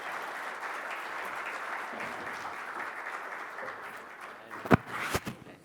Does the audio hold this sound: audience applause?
yes